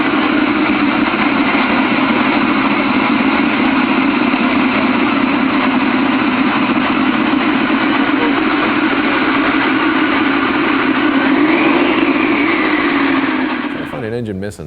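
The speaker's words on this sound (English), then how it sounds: "48-cylinder motorcycle." A 48-cylinder motorcycle engine idles steadily with a low, continuous drone, loud and close, before cutting off abruptly at the end.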